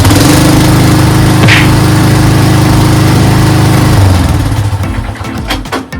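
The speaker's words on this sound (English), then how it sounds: "Engine sounds great." A Craftsman 13.5HP riding lawn mower with a 30-inch deck and bagger runs loud and close just after starting, with a steady throbbing drone that later drops off and falls unevenly toward the end.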